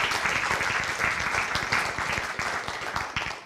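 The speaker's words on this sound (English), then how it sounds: "let's give a round of applause to Professor Rapey" An audience gives a round of applause for Professor Rapey before his lecture, steady dense clapping from many hands that tapers off near the end.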